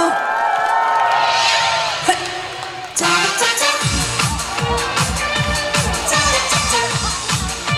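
A rain-soaked outdoor concert crowd at a Chungnam market fair cheers and whoops loudly for about three seconds before a pounding beat and band music kick in over the continuing noise.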